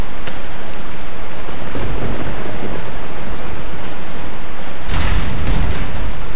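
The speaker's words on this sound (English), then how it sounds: "Oh, now it's raining." Heavy rain with thunder in the video game Resident Evil 4: a dense, steady downpour roars throughout, and a louder rumbling crack of thunder swells near the end.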